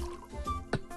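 Water pours into a cup in short, soft trickles and gurgles, faint and close, over a quiet background.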